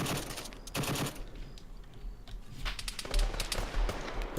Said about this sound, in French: Ça a tiré.